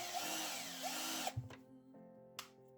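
A cordless drill driver whirring loudly and steadily close by, then switching off, followed by a few small clicks and a brief spin-up as it winds down in a quiet room.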